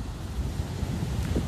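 Wind rushes steadily across a sandy beach at a bay, with soft waves washing in underneath in a continuous, even roar.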